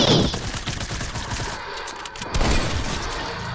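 Dense, noisy gunfire from SMG and sniper rifles in Fortnite, a continuous harsh wash of shots and impacts with a brief dip near the middle, fairly loud and without clear speech.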